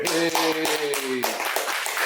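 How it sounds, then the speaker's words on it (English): A live show audience claps in a quick burst of hand claps, loud and close, while a voice calls out over the applause. "Better claps this time, man. Better claps."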